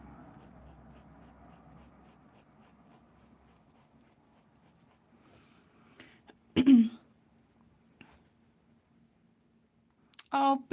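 A single sharp sneeze bursts out near the middle, preceded by quiet rhythmic pen-on-paper scratching and a faint throat clear, with a brief voice returning at the end.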